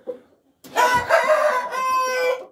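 A rooster crows loudly and close by, one long strained call that rises and then trails off.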